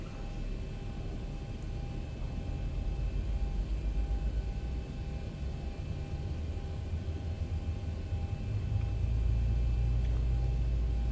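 The number 1 engine of the Zibo 737 airliner in the X-Plane 12 flight simulator spools up during start: a steady mechanical hum over low rumble that grows noticeably louder and deeper toward the end, with no talking.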